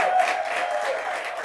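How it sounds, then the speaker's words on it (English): Audience applause following a guest's appearance on a TV comedy news show, a steady wash of clapping over about a second and a half, fairly even and moderately loud with a faint tonal line running beneath. "Yes, a round of applause for him."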